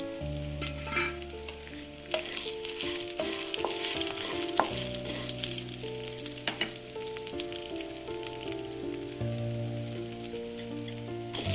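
Garlic, cumin, onion, black pepper, cardamom and cloves fry in a pan for holige saaru, giving a continuous close sizzle and crackle, with occasional stirring scrapes and no speech.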